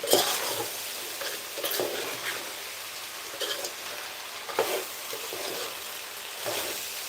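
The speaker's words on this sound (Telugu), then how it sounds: "సరిపడా సాల్ట్ వేసుకొని ఈ రైస్ అయితే ఒక ఫైవ్ మినిట్స్ అయితే రోస్ట్ చేస్తున్నాము" Rice roasts with salt in a pan for khichdi, giving a soft, steady sizzle and frying crackle with a few light stirring scrapes, close and fairly quiet.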